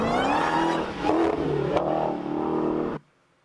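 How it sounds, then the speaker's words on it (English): A Dodge Hellcat engine revs hard and steadily for about three seconds, close and loud, then cuts off abruptly into near silence. "This is a Hellcat right here."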